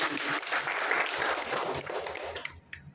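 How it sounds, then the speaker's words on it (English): Audience applause at a felicitation ceremony, a dense wash of many hands clapping steadily at moderate level before thinning out and fading near the end. "let's just have a huge round of applause for this"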